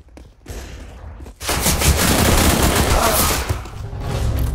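Sustained rapid gunfire in the shooter CS:GO, a dense continuous burst of automatic shots after a brief opening shot, loud and close with little pause.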